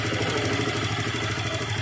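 A Star City Plus 110 motorcycle engine idles just after starting, with a steady, close, loud rhythmic chugging and a faint ticking from a noisy timing chain.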